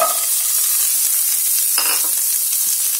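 Chopped onion sizzles loudly and steadily in a pan for kadai paneer gravy, with a spoon scraping and clinking twice against the metal.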